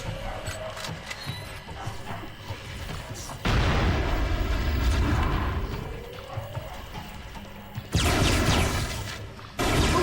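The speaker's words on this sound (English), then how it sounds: "Fucking flash grenades." Flash grenades go off in the Wii shooter Conduit: two loud, sudden blasts some seconds apart, each followed by a dense, rattling, mechanical roar over constant game noise.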